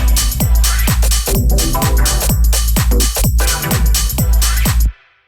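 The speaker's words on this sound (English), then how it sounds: "you want to make sure you get like a very big and full hi-hat like this" A big, full hi-hat rides a steady deep house groove, sitting over a thumping kick and a dense bass-heavy loop that runs at constant loudness for about five seconds before cutting off abruptly.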